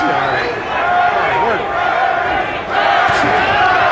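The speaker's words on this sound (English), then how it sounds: "Crowd once again chanting for Donald Curry." A boxing arena crowd at the Terry Norris vs Donald Curry fight chants steadily for Donald Curry, a dense roar of many voices that swells and dips in waves across the whole stretch.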